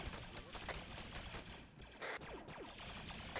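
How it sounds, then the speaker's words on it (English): Bursts of distant gunfire crack repeatedly in an Arma 3 firefight, quick overlapping shots at moderate volume with voices briefly heard. "I'm literally being shot at from 3 different directions."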